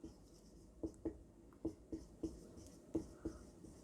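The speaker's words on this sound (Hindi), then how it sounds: "मैं लिख देता हूं" Writing on a board or paper during a grade 9 maths lesson on a geometry theorem: a steady series of short, crisp stroke taps and scratches, fairly close and quiet, with no talking.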